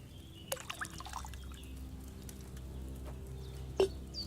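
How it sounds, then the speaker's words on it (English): Wine is poured into an alchemy cauldron in Kingdom Come Deliverance 2, a quiet liquid trickle broken by a few distinct drips and a clearer splash toward the end, over a low room hum. "First, you have to pour the right base into the cauldron."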